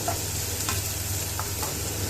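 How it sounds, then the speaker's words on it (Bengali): Onion and ginger paste fry in hot oil with browned garlic, a close bright sizzle broken by a few quick scrapes of a stirring spoon against the pan. "এখন আমি পেঁয়াজ দিলাইমু আর আদা পেস্ট দিলাইমু"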